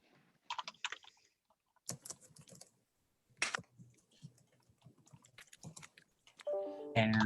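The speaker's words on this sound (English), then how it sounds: "Pardon the typing." Bursts of typing on a computer keyboard during an online general meeting, clusters of close clicking keys separated by short pauses, then a brief electronic chime at the end.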